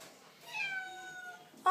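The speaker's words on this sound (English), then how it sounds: "She's meowing." A young cat gives one drawn-out, high meow up close, followed by a quick sharp noise at the end.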